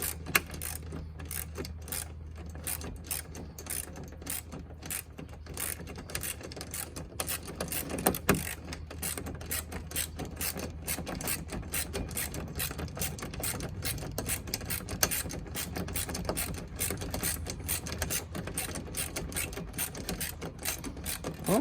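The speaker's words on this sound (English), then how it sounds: "I got my crescent wrench, so I'm going to put it on here" A crescent wrench tightens a nut while a roof is fitted to a 2009 Polaris RzR 800. Rapid ratcheting and mechanical clicking continue at a low, even level throughout, with no talk.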